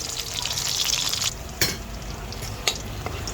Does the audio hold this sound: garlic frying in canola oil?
yes